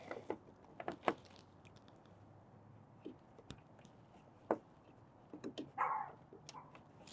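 A dog barks in a few short, scattered yips and woofs, somewhat distant, amid quiet shuffling and small knocks in a garage-like setting.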